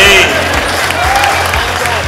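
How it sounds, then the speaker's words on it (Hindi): A crowd claps together at a lucky draw event in a shopping mall's central plaza, a steady patter of applause with rhythmic low thumps and a voice talking over it. "बजाओ ताली के लिए भाई"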